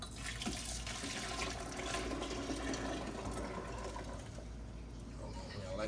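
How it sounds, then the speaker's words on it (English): Ice cream mix being poured into a new ice cream freezer at home, a steady liquid pour and splash running continuously under a broad wash of noise. "Pour this in my new ice cream freezer."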